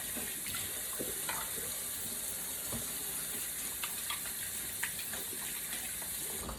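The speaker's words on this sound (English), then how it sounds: "let me get rid of this, wash my hands again and my spatula off" A kitchen tap runs steadily while hands and a spatula are rinsed during bread baking, a constant, fairly faint rush of water with small scattered clinks and splashes throughout.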